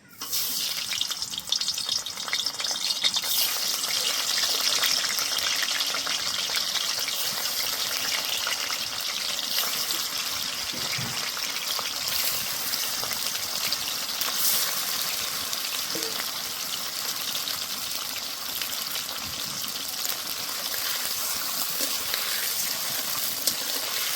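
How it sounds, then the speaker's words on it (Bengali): Paneer cubes fry in hot oil in a wok, giving a steady, dense sizzle with crackling that runs unbroken and fairly loud from start to finish, with no voices over it. "পনিরগুলো ভেজে নিয়েছি, তুলে নেব।"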